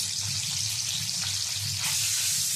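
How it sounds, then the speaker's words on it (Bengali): Three boiled eggs fry in a pan with salt and turmeric powder, a continuous bright sizzle with soft crackling, loud and close, rising slightly toward the end. "ডিমটাও ভেজে নেব।"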